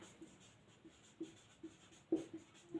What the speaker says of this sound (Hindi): हम लोग लिख देते हैं इंटरनेशनल